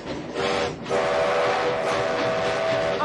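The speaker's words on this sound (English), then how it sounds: "Doc pulls the train whistle" A loud steam train whistle blowing on the Polar Express, a brief opening blast then a long sustained chord-like tone, up close and dominant.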